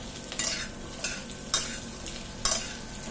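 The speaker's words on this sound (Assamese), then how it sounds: "এয়া মই গোটেইখিনি 5 মিনিটমান ভালদৰে ভাজি ল'লোঁ।" Chopped mixed vegetables fry in a pan with a constant low sizzle, broken by four sharp spatula scrapes and clinks spaced about a second apart, close and without speech.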